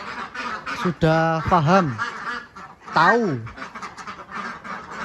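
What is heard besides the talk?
ducks quacking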